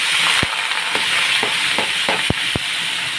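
Washed potatoes drop into hot oil already tempered with cumin seeds and bay leaf, giving a steady loud sizzle punctuated by several sharp clinks and scrapes of stirring, with no talking.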